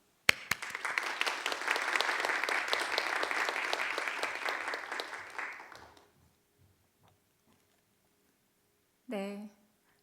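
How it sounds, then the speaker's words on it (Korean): A church congregation at an Easter Holy Week dawn prayer service applauds to welcome a preacher, steady clapping for about six seconds that then dies away, followed by quiet and a brief voice near the end. "힘찬 박수로 환영해 주시기 부탁드립니다"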